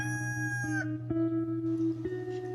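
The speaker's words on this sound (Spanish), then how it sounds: "todos los días, a las 4 de la mañana, canta un gallo, o varios." A rooster crows in long, drawn-out harmonic calls that hold steady and shift pitch in steps, heard clearly close by with no talking.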